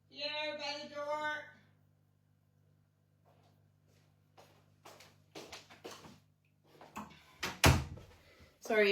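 A front door bangs and rattles open and shut for a delivery at a home, with loud thuds near the end following a voice and quiet stretches.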